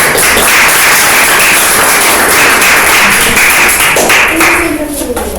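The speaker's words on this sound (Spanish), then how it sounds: "Aplaudan, si quieren." Loud, dense applause from an audience at a school literature podcast session, continuous clapping close by that tapers slightly toward the end.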